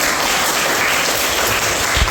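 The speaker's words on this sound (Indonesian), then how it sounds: "Ya, tepuk tangan." Students in a classroom clap together in dense, even applause, loud and sustained for a couple of seconds without any voices on top.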